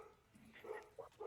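A dog barks a few short, muffled times during a home livestream, faint and somewhat distant, with low background noise between the barks.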